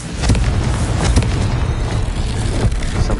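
A fire spell bursts in the Hogwarts Legacy video game, a loud, dense rumbling boom that keeps crackling and roaring for the whole stretch with no pause.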